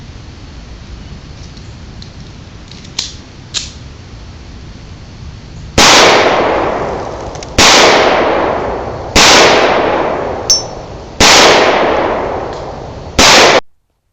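Zastava M88A 9mm pistol firing in five sharp, loud cracks spaced a second or two apart, each trailing a short ringing decay, after some faint handling clicks.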